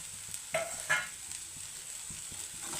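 An egg and amaranth greens stir-fry being tossed in a pan, with two sharp scraping stirs over a low, steady sizzle close by.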